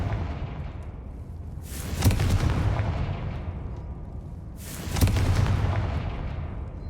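Two heavy, booming blasts from the Confringo fire spell in Hogwarts Legacy, spaced about three seconds apart, each with a long rumbling tail over a constant dull background.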